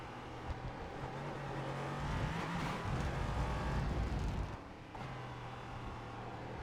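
Ligier LMP3 race car in iRacing, its engine droning steadily and close, swelling as it revs harder midway, then dipping briefly on a downshift before pulling again.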